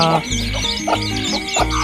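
A hen clucks with her chicks while being moved into a nursery cage, a few close, loud rhythmic clucks with soft peeping in between.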